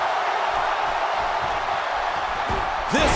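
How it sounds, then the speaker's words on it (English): A dense, steady crowd roar fills an arena in WWE 2K17, loud and unbroken, with a couple of brief sharp swells near the end. "The response from the crowd is deafening."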